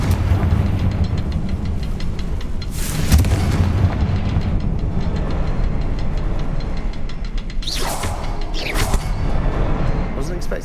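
A Confringo blasting spell detonates in the Hogwarts Legacy video game, heavy booming bursts mixed with rumbling game effects and a later swoosh, layered over a continuous low background ambience.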